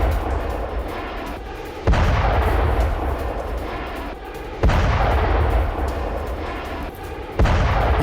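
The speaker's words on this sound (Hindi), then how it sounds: "खार्किव में रूस का मिसाइल अटैक।" Missile explosions striking Kharkiv, heavy booming blasts with long roaring rumbles, three large detonations recurring every few seconds over continuous loud low rumble, no voices.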